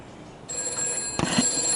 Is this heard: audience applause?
no